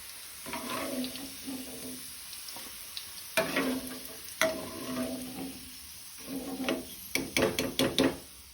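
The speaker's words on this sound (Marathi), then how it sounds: "आता हांव बाकीच्यो सगळ्यो माणक्यो फ्राय करून घेता।" Squid pieces coated for a Goan rava fry crackle in a hot pan in short, uneven bursts of sizzle and spatter, ending with a quick run of utensil clinks.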